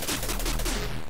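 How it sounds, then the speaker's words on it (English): Tank shells fire in the TRON arcade game in a rapid run of loud, sharp electronic blasts that repeat steadily over a continuous low game drone. "you need to shoot enemy tanks three times to destroy them"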